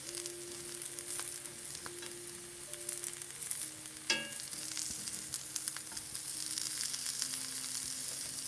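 Lion's mane and chanterelle mushrooms fry in a pan turned down from high toward medium-low heat, a steady quiet sizzle with faint stirring scrapes and one sharp clink partway through.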